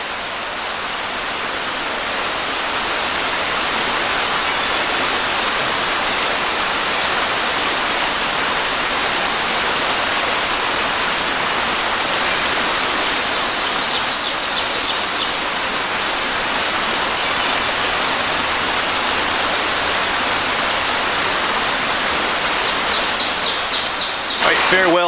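A waterfall stream at Panther Springs roars steadily and loudly throughout, a broad continuous wash of falling water, with faint bird chirps briefly above it.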